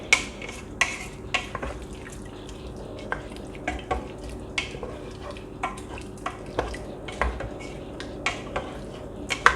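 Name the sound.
stirring chicken broth into a pot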